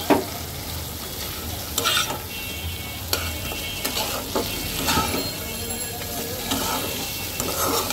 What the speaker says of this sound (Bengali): এখন আমি দিয়ে দেব ভেজে রাখা মাছটাকে